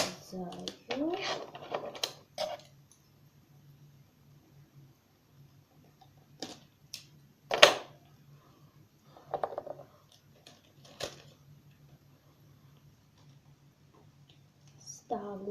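Scissors snip out parts for a doll's wardrobe, short crisp cuts and clicks spaced irregularly, close and fairly quiet, with a voice talking at the start.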